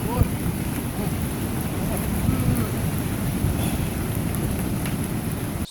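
A small stream swollen by heavy rain into a raging river on the Waipio-to-Waimanu Valley trail on Hawaii's Big Island roars loudly and steadily as hikers cross, with wind gusting against the microphone.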